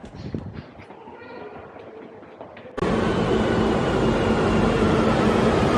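Barcelona metro subway train: quiet, muffled sounds give way abruptly to a loud, sustained rumble and roar that continues steadily to the end.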